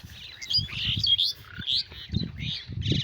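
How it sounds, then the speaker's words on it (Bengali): A flock of birds sits in village trees, chirping and tweeting continuously in overlapping calls, fairly close, with soft background rumble and no talk. "অনেক পাখি গাছের ভিতরে"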